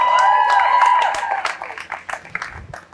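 Audience applause at a stand-up comedy show in Pakistan: a full room claps loudly, with a whistle or cheer at the start, and the clapping thins and fades over a few seconds.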